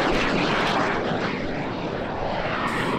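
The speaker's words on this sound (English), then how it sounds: "here we see the Canadian Forces Snowbirds dropping in with their spare jet, which is of course a CT-114 Tutor." A Canadian Forces Snowbirds CT-114 Tutor jet flies at the EAA AirVenture Oshkosh 2019 airshow, its loud broadband jet roar holding steady throughout with no speech.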